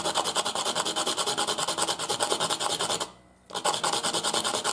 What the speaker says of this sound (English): once again I'm rolling it as I sharpen it.